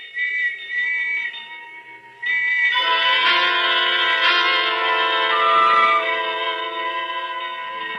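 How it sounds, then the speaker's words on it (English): Whistles and bells ring together in an old radio mystery drama scene, a loud steady tonal blare that drops briefly and then swells back, sustained without any talking. "And the whistles and bells all around."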